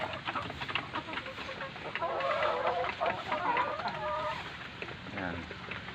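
Hens cluck and squawk close by in a busy chicken pen at egg-laying time, a lively overlapping chorus that swells in the middle, with a person talking quietly underneath.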